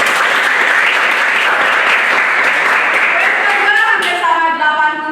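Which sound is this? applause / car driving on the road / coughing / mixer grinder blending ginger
applause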